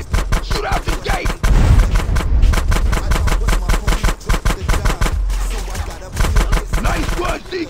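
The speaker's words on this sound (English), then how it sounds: "Shoot out the gate." Rapid gunfire in GTA San Andreas as the old sewer gate is shot out, a loud, dense stream of shots with booming bursts running almost unbroken through the whole stretch, with a few brief pauses.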